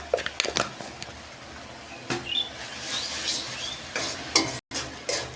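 Spice paste with ground nuts and a spoonful of sugar being sautéed in a pan, a soft sizzle with intermittent stirring scrapes and clatters, fairly quiet and without speech.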